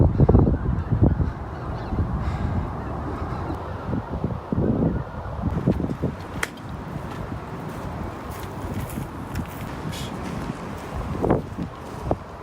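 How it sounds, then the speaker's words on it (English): A large flock of migrating geese honks overhead outdoors near a muddy cart path, calls scattered and overlapping across a steady breezy wash, with a louder burst at the start and again near the end. "Migrating birds! That is a lot of freaking birds."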